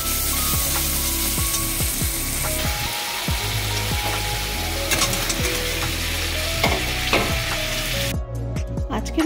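Salt, sugar, turmeric and chili powder are stirred into a vegetarian potato curry in a pan, with a continuous sizzle and clattering spoon strokes, close and fairly loud, and a steady tonal background throughout.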